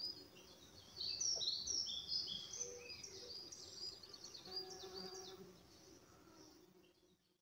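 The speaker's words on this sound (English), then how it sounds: "There's a little bit of distant bird song." Faint, distant bird song chirps and trills through a still June evening at Red Hill, fading toward the end over a low, quiet background.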